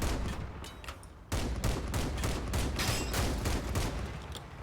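Rapid, continuous weapon fire in the vehicle combat game Crossout during a PvE search-and-destroy mission, a dense rattling barrage that pauses briefly near the start, then resumes steadily and loud with no talk over it.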